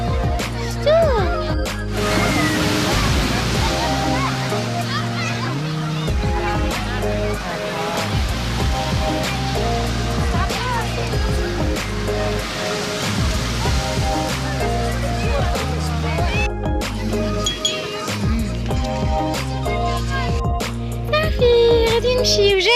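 Sea waves wash steadily onto a beach near Safi, a loud continuous roar of surf close by, with a musical backing layered over it throughout.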